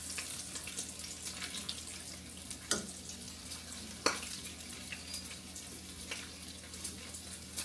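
Bacon sizzles and spits in a frying pan for breakfast, a faint steady crackle with a few sharper pops and clinks of utensils, quiet and close, with no talking.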